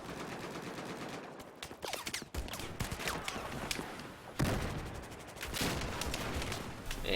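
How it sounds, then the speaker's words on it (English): Gunfire in a combat video game, aimed at an APC, comes in rapid bursts and scattered shots of varying loudness over several seconds, with dense overlapping reports and no clear voices. "getting shots on this APC"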